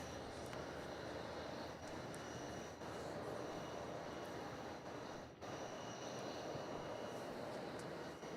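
An Emirates airliner departs Melbourne Airport at night, its jet engines a steady, fairly distant broadband roar that holds without a break, with no voices.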